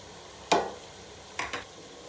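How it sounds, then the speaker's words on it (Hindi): Spices are stirred into chicken and vegetables frying in a pan, with three distinct scraping stirs over a soft background sizzle, close and fairly quiet. "अब मैं मसाले डालूँगी,"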